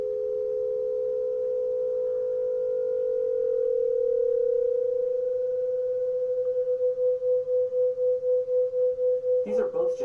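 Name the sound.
two pure tones beating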